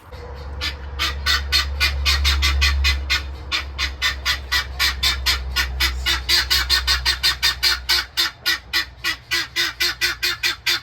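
Guinea fowl squawk in a loud, rapid, repeating chorus of harsh calls while a dog chases them, the cries continuing steadily and close by over a low rumble.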